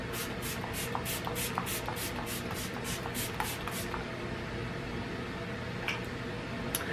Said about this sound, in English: I'm gonna spray myself with the Fix Plus one more time.